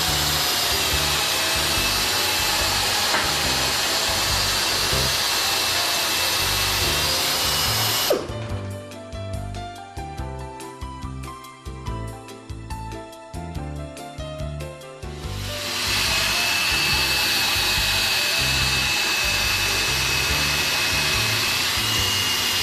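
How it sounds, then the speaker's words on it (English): A 500 RPM slow-speed air drill fitted with a carbide cutter grinds at a puncture in a tire, whirring steadily for several seconds between stretches of louder air hiss, close by with no talk. "Attach a carbide cutter to a 500 RPM slow-speed air drill and adjust a puncture flaw from the inside and outside,"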